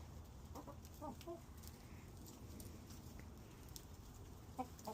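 Backyard coop chickens at bedtime, a hen named Butterball among them, clucking softly with scattered short calls over steady low rumbling, fairly faint and continuous with no talk.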